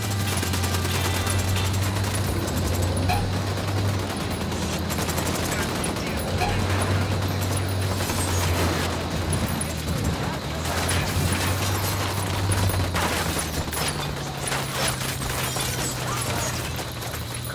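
Sustained rifle gunfire in the tactical shooter Ghost Recon Wildlands, with dense crackling bursts and shots over a steady low engine-like drone, loud and continuous throughout, with occasional voices in the mix.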